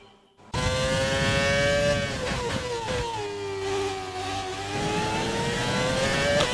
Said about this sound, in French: On va donc partir s'élancer sur le circuit du Paul Ricard.